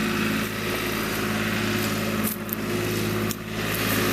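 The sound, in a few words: tractor engine humming nearby in cemetery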